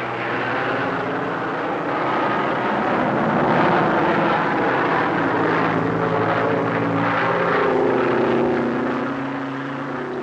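A propeller airplane passes low overhead, its droning engine loud and close, swelling and fading gently over about ten seconds.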